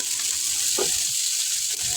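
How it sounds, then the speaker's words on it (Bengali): Chopped onions frying in oil in a pan for a duck curry give a steady, close hiss of sizzling that runs through the whole stretch, with no one speaking. "একটা প্যান বসিয়ে তাতে তেল দিয়ে পেঁয়াজ কুচিগুলি দিয়ে দিলাম"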